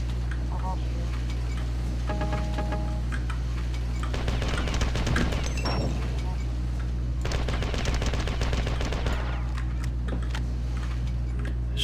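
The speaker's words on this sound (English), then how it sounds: "You think they'd shoot enough grenades?" In the video game Marathon 2, enemies fire grenades in rapid crackling volleys of shots and bursts that run steadily and loudly throughout, while a voice talks over the barrage.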